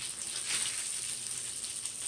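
Black plum teriyaki marinated catfish nuggets fry without oil, giving a steady, soft hissing sizzle with no breaks, alone and with no talking.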